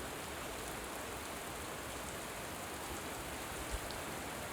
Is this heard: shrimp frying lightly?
no